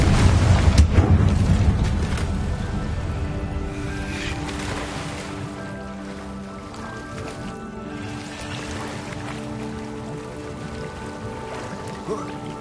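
A Confringo blasting spell explodes in a Harry Potter video game, a loud boom at the start that rolls off into a long fading rumble with lingering game ambience.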